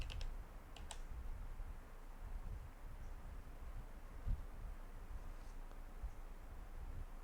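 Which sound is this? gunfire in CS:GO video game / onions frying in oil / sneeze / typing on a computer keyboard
typing on a computer keyboard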